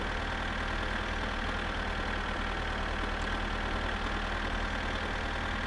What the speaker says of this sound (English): we're making our way back in the noisy tractor